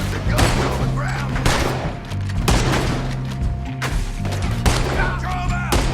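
Gunfire in a Red Dead Redemption 2 shootout: repeated heavy booming shots in irregular bursts, loud and close, with shouting voices mixed among them.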